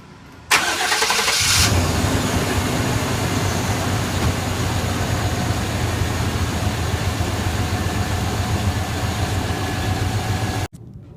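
A Chevrolet truck engine, freshly fitted with a new drive belt, catches after a brief crank and settles into a steady, loud idle that runs evenly for several seconds before cutting off abruptly.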